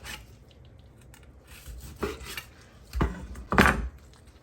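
A few short rasping strokes of a knife cutting through grilled tri-tip on a board, three or four distinct scrapes spaced about a second apart, close and fairly quiet.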